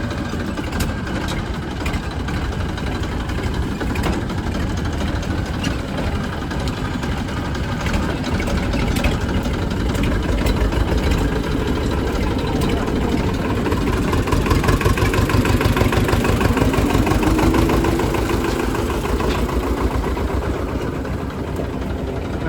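Two tractor engines run steadily in a Gujarati village field, a continuous low rumbling drone that holds at an even level throughout with no voices.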